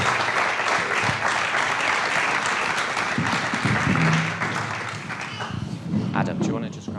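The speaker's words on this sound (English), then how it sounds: "Would you give them a big round of applause as they come and join us?" A big round of applause from an audience at a talk and interviews event, loud and sustained, then tapering slightly as a voice talks over it.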